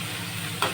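Onion paste with cumin and spices sizzling in hot oil in a pan, a steady close frying hiss that swells briefly near the end as the mixture is stirred.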